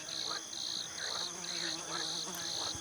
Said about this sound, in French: Des insectes de toute espèce s'activent et bourdonnent tout près des grenouilles qui coassent